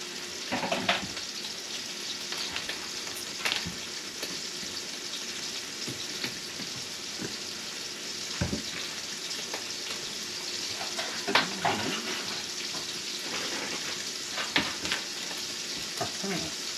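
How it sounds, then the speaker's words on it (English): Sausage meat sizzling loudly in a frying pan with sesame oil and soy sauce, a continuous close crackle broken by repeated sharp scrapes and clacks of stirring. "And now you just gotta go stir up the meat."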